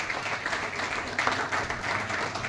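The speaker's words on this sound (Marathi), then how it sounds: "जोरात टाळ्या वाजवून त्याचं स्वागत व अभिनंदन" Sustained loud applause fills the hall at the Anubhav Pratishthan award ceremony as a videographer is welcomed, an even, dense clatter of many hands throughout.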